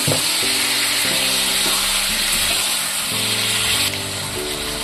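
Water is added to a pan of frying masoor dal fritter curry, producing a loud, steady hissing sizzle that holds throughout, with faint scraping in the pan and no talking.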